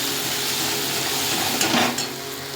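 Kashmiri chili, cumin, coriander and turmeric powders sizzle steadily in hot oil in a pan for tarka, a close continuous frying hiss with a brief louder burst of stirring near the end.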